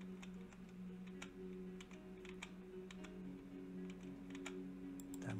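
Rapid clicking keystrokes on a computer keyboard, steady and close, over a low constant hum, with no talking.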